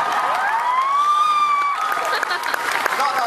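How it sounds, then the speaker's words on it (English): Audience at an anime convention opening ceremony cheering and clapping after a rising whistle-like tone, loud and dense crowd noise with voices mixed throughout. "I deserve a round of applause myself"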